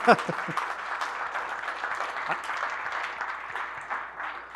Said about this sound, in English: please have a round of applause for somebody to talk that long without taking a breath